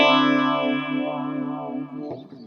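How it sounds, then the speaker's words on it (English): Electric guitar played through a $45 mini amp on a clean factory preset like a Marshall clean, with echo as the only effect: a sustained chord rings out and decays, then a few softer notes follow. "It sort of sounds like a Marshall clean. It has no effects except for some echo."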